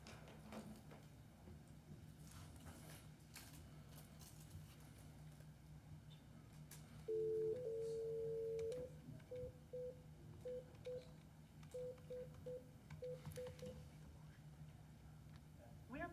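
At a town council meeting, a phone conference system emits a steady two-tone signal, then a series of short DTMF dialing beeps in quick groups. The tones sound faint under room noise and murmured talk.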